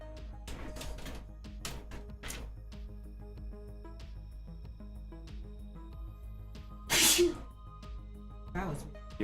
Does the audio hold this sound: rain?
no